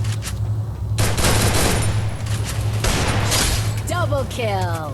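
Rapid gunfire bursts in the Free Fire video game, loud and dense, cutting in sharply after a second and continuing under excited talking, with warbling game effects near the end.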